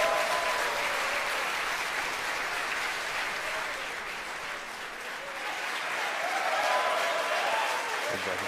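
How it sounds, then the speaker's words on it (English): Sustained applause and cheering from a crowd of employees at SpaceX headquarters in Hawthorne, California, during a rocket launch, steady and moderately distant, rolling on without a break for the full stretch. "you hear the applause here from SpaceX headquarters in Hawthorne, California"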